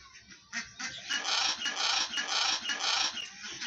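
Ducks in a park being fed popcorn on a windy day make a loud burst of quacking and squawking calls, close up and overlapping, with no talk over them.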